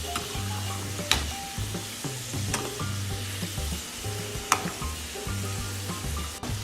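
Sweet plantain fries in a pan coated in melted sugar, sizzling steadily up close while a utensil stirs and scrapes with occasional sharp clinks against the pan.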